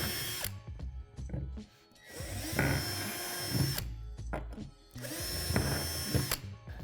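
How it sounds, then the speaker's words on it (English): A power drill whirs in three bursts separated by short pauses, biting into plastic composter panels with a grinding, rattling whine close to the listener. "drill through the panels with the provided drill bit"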